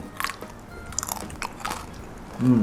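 Crispy fried pork tail, eaten plain without dipping sauce, crunches loudly in several close bites followed by chewing, with no talk.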